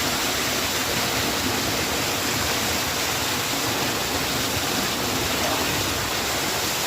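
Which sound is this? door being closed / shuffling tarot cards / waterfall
waterfall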